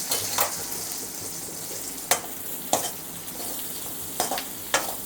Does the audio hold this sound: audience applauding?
no